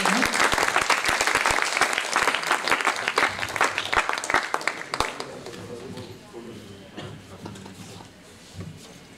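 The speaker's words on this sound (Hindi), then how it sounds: "तो एक बार तालियां जोरदार सर के लिए।" An audience applauds a chief guest as a memento is presented at a national association event on assistive technologies for people with visual disabilities. The applause is loud and dense at first, then thins to scattered claps and fades, with voices beneath it.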